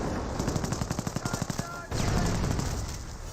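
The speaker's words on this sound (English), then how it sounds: "Rocket grenades firing." Rapid bursts of rocket grenade fire in a Company of Heroes battle, a quick rhythmic string of sharp reports followed by a denser roar of explosions and gunfire.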